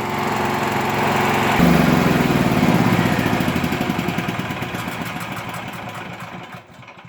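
A small portable backup generator engine runs loudly, then its speed sags and the rhythmic pulsing slows and sputters as it starves of fuel, fading toward a stop.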